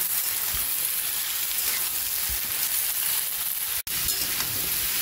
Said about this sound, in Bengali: পেঁপে আলুটাকে একটু পেঁয়াজের সঙ্গে ভেজে নেব।